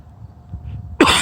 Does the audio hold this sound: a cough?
yes